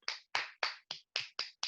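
Seven sharp, evenly spaced claps ring out in quick succession from a nearby audience, each a crisp, bright burst with no talking over them.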